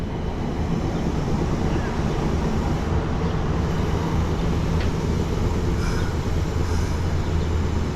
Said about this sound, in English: There goes that streetcar again.